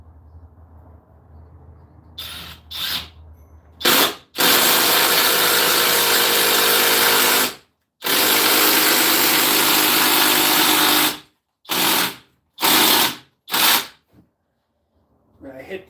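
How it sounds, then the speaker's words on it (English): A flex power drill whirs in several bursts, two long runs and a few short triggers, loud and close, with brief pauses between. "Let's see how good this flex drill does."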